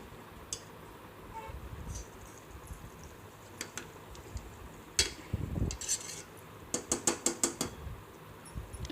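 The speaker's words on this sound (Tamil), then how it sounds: "ஆட் பண்ணி நல்லா மசாலா எல்லாத்தையும் மிக்ஸ் ஆகிறப்பல நல்லா கலரிடுவோம்" A spoon scrapes and clinks against a pressure cooker while masala and soya chunks are stirred together, giving a run of sharp metallic taps with some quicker bursts toward the end.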